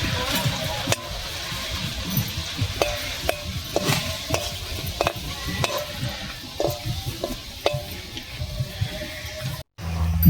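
Bhola fish churmur frying in a pan of hot oil, a continuous busy crackle and sizzle with sharp clicks and scrapes of a stirring spatula, fairly close and loud, cut briefly near the end.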